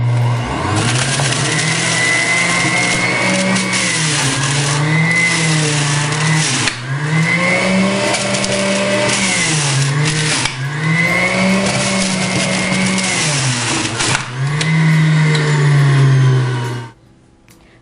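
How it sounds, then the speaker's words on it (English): Breville JE98XL juicer running on high while juicing carrots and ginger, a loud steady motor whine with a rising and falling pitch as pieces are fed in, ending abruptly near the close. "We're going to juice the carrots and ginger on high."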